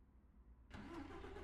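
A truck engine in Euro Truck Simulator 2 cranks and catches after a quiet stretch, then settles into a steady, fairly loud low idle with a faint tonal whine, no talk over it.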